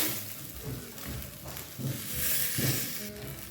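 Beef stir-fry sizzles steadily in a hot oiled pan while paste is mixed through it, with a few soft stirring scrapes swelling the sizzle at intervals; no one speaks.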